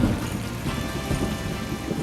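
Heavy rain with thunder on the terraces of the House of Commons as the 1976 summer heat wave breaks: a steady, dense hiss of falling drops over a low, continuous rumble, with no voices.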